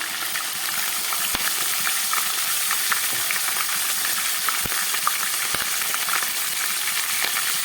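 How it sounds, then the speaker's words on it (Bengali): Diced potatoes fry over medium heat in a pan with a little salt and turmeric, giving a steady, close, even hiss and sizzle with occasional faint clicks, no voices. "আঁচটাকে মিডিয়ামে করে আমি আলুগুলোকে খুব ভালো করে ভেজে নিচ্ছি।"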